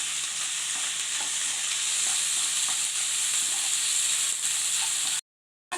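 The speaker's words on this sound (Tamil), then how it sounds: "இதையும் சேர்த்து நல்லா வதக்கிக்கலாம்." Chickpea and cauliflower kurma ingredients sautéing in a pan, giving a steady, close sizzle and hiss with faint stirring scrapes throughout, cutting off abruptly near the end.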